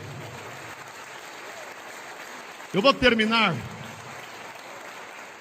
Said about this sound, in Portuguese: Vamos aplaudir o Senhor, igreja.